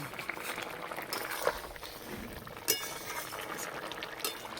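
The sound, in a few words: curry broth with neem leaves boiling in pan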